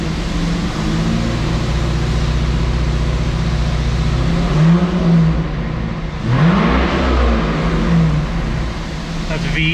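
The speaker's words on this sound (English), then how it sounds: "So we're gonna get her warmed up here a little bit." A cold C5 Corvette engine idles steadily while warming up, its low rumble constant and close throughout, with a couple of brief rev swells in the middle and speech heard over it.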